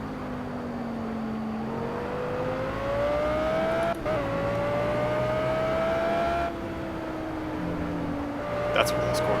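An Audi R8 GT3 race car in Project Cars holds a loud, steady engine note that rises and falls through gear changes, with a short downshift blip midway.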